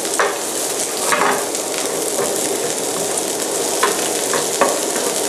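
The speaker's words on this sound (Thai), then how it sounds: "ผัดให้หอมใหญ่นิ่มนะครับ" Sliced onions stir-fry in olive oil over low heat, a steady crackling sizzle close by with occasional scraping stirs at irregular intervals.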